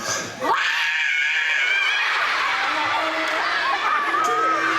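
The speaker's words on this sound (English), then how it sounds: "sometimes you just gotta scream" A person lets out a long, loud, sustained scream that runs almost unbroken for several seconds and stays close and piercing throughout.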